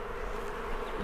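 Bees buzz in a dense, steady hum close by at an open beehive with brood frames exposed, a continuous drone without speech.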